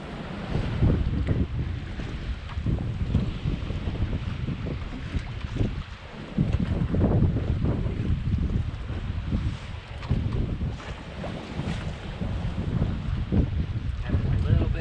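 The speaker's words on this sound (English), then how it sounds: "Having a little bit of wind." Wind rushes steadily across the microphone aboard a 1961 Kettenburg K40 yacht sailing at sea, a loud, continuous low buffeting rumble with gusty swells and water noise underneath.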